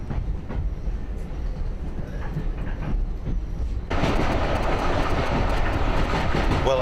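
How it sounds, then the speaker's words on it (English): Steam train running on the Strathspey Railway at Aviemore, Scotland, heard from on board as a steady rumble and rattle of carriages, turning louder and brighter midway through, with no talk. "I'm being hauled by a steam engine. You can tell with the noise."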